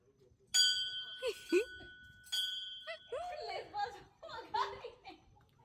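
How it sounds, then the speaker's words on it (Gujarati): Two bright metallic bell clangs ring out and sustain briefly, followed by people chattering and laughing nearby. "ઘંટડા જ વગાડવા"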